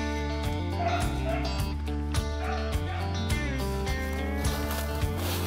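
A pet beagle yips and bays while hunting rabbits outdoors, short barks recurring in a steady rhythm at moderate distance.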